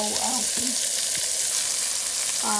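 Southern-style fried cabbage sizzles loudly and continuously in a pan over medium-low heat, with brief fragments of speech at the start and end.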